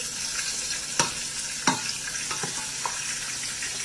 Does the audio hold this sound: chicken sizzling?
yes